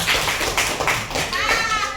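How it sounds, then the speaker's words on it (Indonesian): Students in a classroom clap for a classmate, a short burst of overlapping hand claps with children's voices chattering alongside. "Bagus, tepuk tangan untuk Luna."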